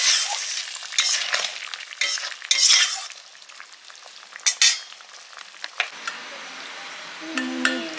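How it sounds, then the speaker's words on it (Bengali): Tamarind chutney simmering in a pan as sugar is stirred in, soft sizzling and bubbling with scraping stir strokes and light utensil clinks, faint and intermittent, no talk. "টকটা ফুটে গেছে, এবার চিনি দিয়ে দিচ্ছি।"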